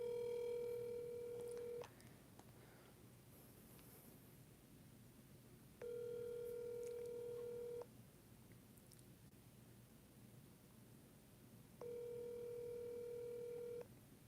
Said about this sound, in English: I'm going to call her on the other phone.